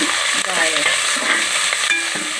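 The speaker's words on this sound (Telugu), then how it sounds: "ఉల్లిపాయి ఇలా వేగితే సరిపోతుంది" Chopped onions and green chilies fry in hot oil with ginger in a pan, giving a steady, close sizzle with soft stirring scrapes throughout and no talking.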